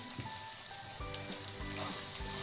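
Medium-sized onions sizzling in hot oil for aloo keema, a steady crackling fry with bursts of spattering and soft stirring knocks, close and alone.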